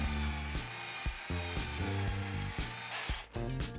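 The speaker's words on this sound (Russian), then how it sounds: "Удобнее всего это сделать маленьким венчиком. Устанавливаю его в шуруповерт и получаем отличный миксер для краски." A cordless screwdriver fitted with a small whisk runs continuously, mixing paint for a decorative plaster wall. The motor whine is loud and close, with rhythmic pulsing from the churning paint and a brief dip near the end. No one speaks.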